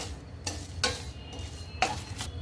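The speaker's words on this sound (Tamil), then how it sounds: "இப்போ இது எல்லாத்தையும் ட்ரை ரோஸ்ட் பண்ணிக்கலாங்க." Whole spices, including mace and nutmeg pieces for chole masala, are dry roasted in a pan, with a few sharp scraping stir strokes over a faint, quiet background.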